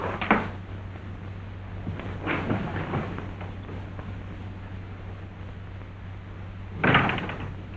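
A door in a 1942 Western office scene shuts with a few solid knocks and thuds, one early, one a couple of seconds later and a louder one near the end, over a steady low hum and room noise.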